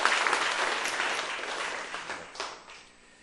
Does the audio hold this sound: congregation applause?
yes